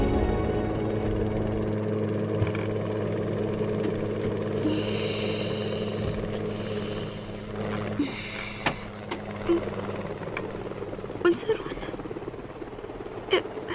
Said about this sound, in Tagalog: Duli ni abot ni helicopter.